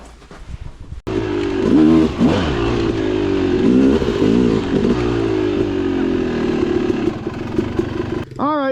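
Apollo DBX15 Chinese pit bike, a small dirt bike, kicks into life and revs hard as the ride begins, its buzzy engine rising and falling in several sharp throttle blips up close before settling into a steady drone.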